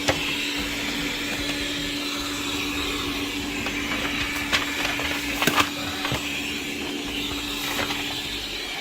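A Wyze robot vacuum cleaner runs indoors while mapping a room, giving a steady, continuous motor hum and brush whir with a few brief clicks and bumps as it edges around furniture.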